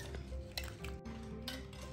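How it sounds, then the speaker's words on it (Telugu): Close scraping and clinking of a spoon stirring a mixture with jaggery in a metal pot, a handful of soft knocks and scrapes over a low background hum. "కొంచెం కలపాలి."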